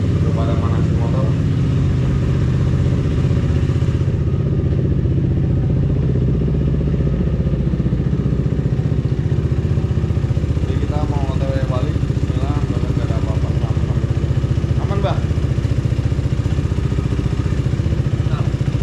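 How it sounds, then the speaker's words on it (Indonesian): Several motorcycles idling and warming up outdoors before a touring ride to Ciletuh Geopark, a steady low engine drone throughout with people talking over it. "Udah pada manasin motor."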